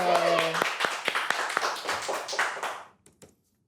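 An audience claps in a scattered patter of sharp hand claps under ongoing talk at an Indonesian comedy talk show, fading out toward the end.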